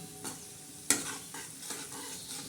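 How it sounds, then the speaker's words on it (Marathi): A tadka for a spicy lemon and green chili pickle sizzles in hot oil, with a soft continuous fry and a few stirring scrapes, one sharp clink near the one-second mark, close and quiet. "आता हा छान असा तडका बसत आहे"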